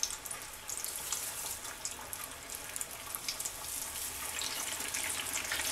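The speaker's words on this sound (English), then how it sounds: "So I'm gonna put this breast in here, and it's gonna start popping." Chicken breast frying in hot oil at about 370 degrees for a spicy crispy chicken sandwich, giving a steady hiss with scattered small pops and crackles throughout, close and without talk.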